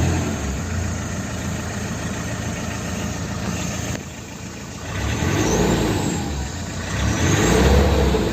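An old Mahindra Scorpio with a brand-new engine and freshly fixed radiator, driven in GTA 5, starts up and runs close and steady, dipping briefly before climbing into louder revs.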